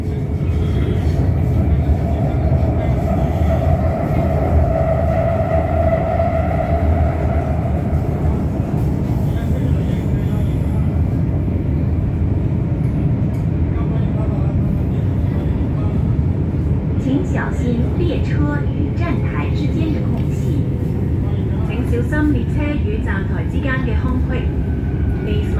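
A Shenzhen Metro Line 4 train gives a constant loud rumble and roar while riding, with a rising whine early on and clattering and knocking later, and faint voices underneath.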